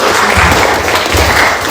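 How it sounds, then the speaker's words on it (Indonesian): Classroom applause for a student in a high school lesson, a dense steady patter of clapping hands filling the room for under two seconds. "Betul sekali ya, beri tepuk tangan untuk Mbak Aurel."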